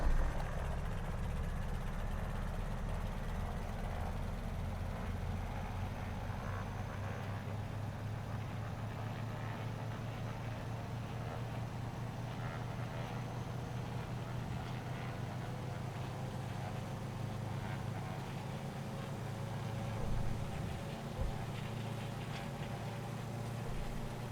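An aircraft's takeoff roll down a runway in Flight Simulator, with a steady, loud engine drone and low rumble throughout that holds nearly constant for the whole stretch, with no talk over it.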